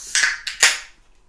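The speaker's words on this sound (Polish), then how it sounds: "To był dźwięk puszki." Two or three sharp metallic clicks and pops from a can, quick and close, fading into near silence within about a second.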